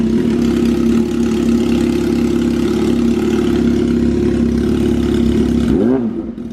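A 2007 Yamaha R1 motorcycle engine, bike under rebuild, running with a loud, steady low throbbing idle close by, then a brief rev and drop near the end.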